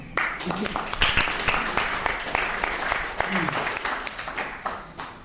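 An audience at a lecture on Charlie Chaplin applauds. The clapping is fairly close and lasts a few seconds, with a voice speaking over it.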